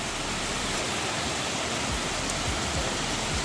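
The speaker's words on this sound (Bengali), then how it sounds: "দেখুন কি জোরে বৃষ্টি হচ্ছে" Heavy rain pours down in a dense, unbroken roar of drops that holds at the same loudness throughout, with no voices over it.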